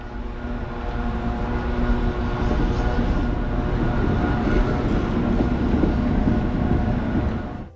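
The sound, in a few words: Staten Island Railway train pulling into station and departing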